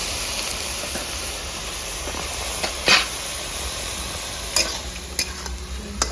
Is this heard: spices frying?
yes